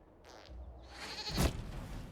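Goat bleating in Dragon Age: Inquisition, a short bleat followed by a louder rough bleat with a thump, faint and mixed with game ambience.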